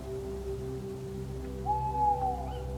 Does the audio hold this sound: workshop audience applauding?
no